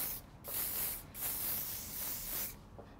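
Bursts of aerosol hairspray hissing close by, several sprays in quick succession with short pauses between, no talking.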